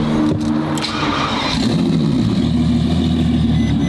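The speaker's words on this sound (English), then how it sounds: "The sound of this car is out of this world." A car engine, apparently a Ferrari-related build, revs loudly and close by at night, settling into a steady, throbbing mid-range drone with a sharp rising burst early on and no talk.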